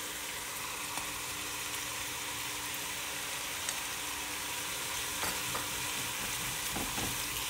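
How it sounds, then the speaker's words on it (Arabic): Onion and garlic fry in a pan with a steady, close hiss of sizzling oil, joined now and then by faint scrapes of stirring. "رح أنزل عليه البصل، عندي تومة رح أضيف شوية تومة"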